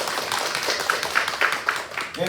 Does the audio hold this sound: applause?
yes